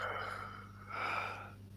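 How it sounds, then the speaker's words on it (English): A tired person yawns during a relaxed late-night chat, a drawn-out breathy vocal stretch that swells twice over a low steady electrical hum. "Did you just yawn there?"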